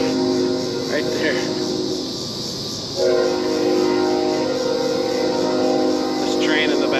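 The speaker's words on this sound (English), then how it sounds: "This train in the background's making it hard on me." A train passes in the background beside a river on a hot day. A steady horn-like drone swells partway through and holds over a broad, continuous low rumble.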